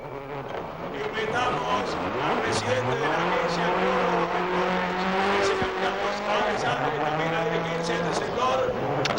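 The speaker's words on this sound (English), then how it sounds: "Juan Pablo Reyes in the 12 car here, up against Juho Anainen in the Mitsubishi Lancer." Mitsubishi Lancer rally car on a special stage at Rallye Argentina, its engine rising and falling in pitch through gear changes as it passes, with a commentator speaking over it throughout.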